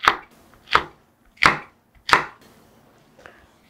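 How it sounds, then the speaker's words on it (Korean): A knife chops Cheongyang chili peppers in four sharp, evenly spaced strikes, then one fainter fifth tap, close and clear with quiet between them. "청양고추를 6개를 준비를 했는데요. 요거를 쫑쫑 썰어서 넣어주세요."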